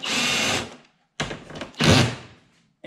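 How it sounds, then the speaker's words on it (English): Power drill driving screws into a Corvette C7 Stage 2.5 ZR1 front splitter, heard as a couple of short, close whirring bursts separated by brief pauses. "try not to use the screw gun if you're doing it like this and put it on drill, because you will strip these out"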